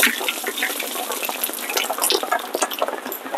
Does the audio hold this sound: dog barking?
no